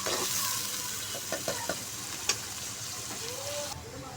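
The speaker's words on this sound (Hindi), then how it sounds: "अब देखिए हम प्याज को फ्राई करते हैं अच्छे तरीके से।" Onions frying and being stirred in a pan for a chicken curry, a steady close sizzle with a few scraping stirs of a spoon against the pan, no voices.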